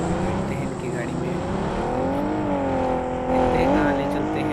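A vehicle in the mobile game BGMI (Battlegrounds Mobile India) drives with a steady engine drone that rises and falls slightly as it revs, loud and continuous throughout.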